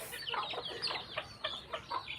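Chickens clucking in a series of short, irregular calls, fairly close and moderately loud, with a brief burst of noise at the very start and no talking.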